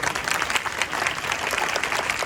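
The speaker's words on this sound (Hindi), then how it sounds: "आज आपकी तालियों की आवाज़ तो बाहर ये गेट तक मिल गई।" A church congregation claps loudly and steadily in a packed hall. The dense applause runs continuously from start to finish, with no voices breaking through.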